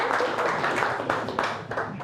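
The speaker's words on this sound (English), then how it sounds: "clap if you want" Audience at a Daf Yomi Torah class clapping, a scattered, moderate round of applause with a few louder claps, heard from within the room under faint background voices.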